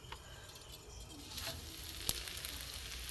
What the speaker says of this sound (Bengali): অল্প তেলে ভাজবো।